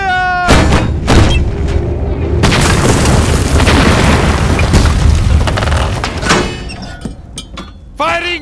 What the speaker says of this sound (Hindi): तीनों तोप चलाओ। फायर! फायर!